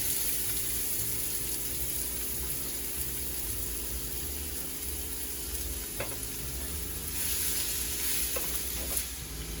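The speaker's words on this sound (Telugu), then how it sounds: "దానికి ఈ 4 టేబుల్ స్పూన్స్ ఆయిల్ యాడ్ చేస్తాను. అలాగే దాంట్లో ఫస్ట్ మనం ఉల్లిపాయ యాడ్ చేసేస్తుంది." Onion frying in about four tablespoons of oil gives a constant, moderately loud sizzling hiss, with a few brief clinks of a utensil against the pan toward the end.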